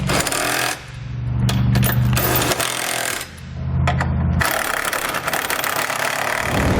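A power tool snugs bolts on a Curt trailer hitch receiver being fitted to a 2014 Toyota Sienna, its motor running in two loud bursts with rattling, hammering impacts between quieter whirring stretches.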